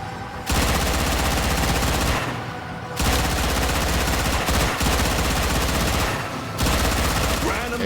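Sustained automatic gunfire rattles through Warframe gameplay. The loud, dense bursts pause briefly a couple of times before resuming, and a voice speaks underneath.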